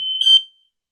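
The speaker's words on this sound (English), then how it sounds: "that's that beeping. what's it? Yeah, my alarm went off." A household smoke alarm chirps once in a loud, shrill, steady electronic tone lasting about half a second, set off by cooking heat, then stops and leaves silence.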